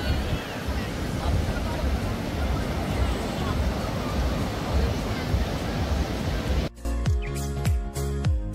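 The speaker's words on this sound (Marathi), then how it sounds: "बडा लाटा रे भाई, बडा लाट." Big ocean waves roll in at Baga beach at night, a broad, continuous roar mixed with crowd babble and wind for about seven seconds before the scene abruptly changes to other, tonal sounds.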